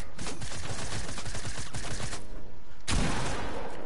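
Rapid bursts of gunfire in the Fortnite video game crackle through the first two seconds, then a sharper blast lands near the end, moderately loud with no talk over it.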